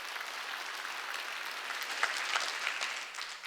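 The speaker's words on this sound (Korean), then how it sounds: "박수치라고" A church congregation at a Wednesday worship service claps together, a continuous, moderately distant patter of many hands that swells a little near the middle before easing off.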